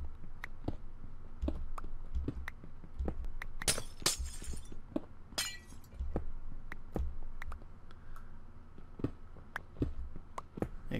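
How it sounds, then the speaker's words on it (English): Glass blocks shatter repeatedly in a modded Minecraft world, several crisp breaking bursts scattered among steady clicking and tapping, loud and close with no talking. "I'm going to have to break my glass."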